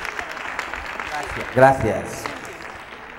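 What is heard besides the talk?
audience applause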